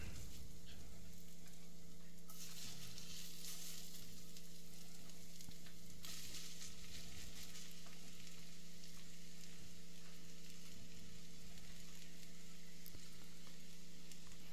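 Grated potatoes for Swiss rösti fry in melted butter, giving a steady, close sizzle and crackle that runs evenly throughout with no voices.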